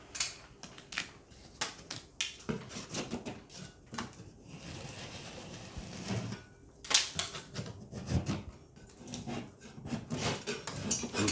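Dried drywall mud is scraped and flaked off a water-damaged ceiling in irregular, close scraping strokes with gritty rasps and crumbling bursts, separated by brief pauses.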